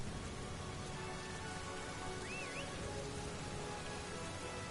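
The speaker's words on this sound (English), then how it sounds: "And now it's raining." Steady rain hiss from the video game Dynasty Warriors 9, a dense continuous wash of falling rain filling the background at an even level, with no talk over it.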